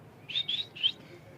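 Three quick, high-pitched chirps in a row from a pair of plum-headed parakeets, short and bright, heard up close over a faint background.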